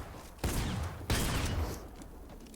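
Two sharp bursts of gunfire from an assault rifle in a Fortnite aim-training course, each followed by a short decaying tail, fairly loud with a brief quiet gap between them.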